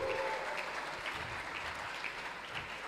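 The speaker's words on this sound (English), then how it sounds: "Let's give it a round of applause for Kuda Bank" Audience applause at a university tech convention, a steady dense wash of many hands clapping that holds at a fairly even level for the full stretch with no talking over it.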